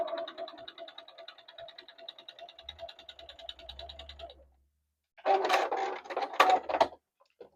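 A sewing machine stitches small quilt blocks, a rapid even whir of stitching for about four seconds, then a pause, then rustling handling noises nearby.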